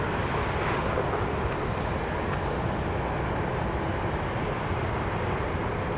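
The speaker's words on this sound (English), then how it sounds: "JSX coming in from Provo, Utah, in Embraer 145" Embraer 145 jet on short final approach, a steady broadband roar with a high whine, heard at a distance and holding constant throughout.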